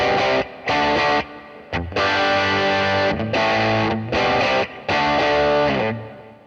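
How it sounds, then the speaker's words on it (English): Gritty, slightly distorted electric guitar through a Boss GX-100 small tweed combo amp model with an 8-inch speaker, strumming choppy chord bursts separated by short pauses, with a small, boxy tone. "I think what they're using here is a little 8-inch speaker."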